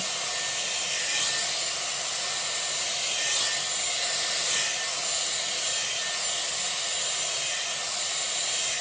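A Dyson Airwrap hair styler blows a steady, loud rush of air while drying hair at the roots, its whoosh swelling slightly as it moves, with no talking.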